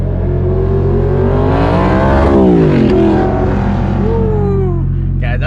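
A V8 car engine revs loudly and close, its pitch rising and falling in a sustained roar with a deep rumbling undertone, the kind of note heard from a Corvette.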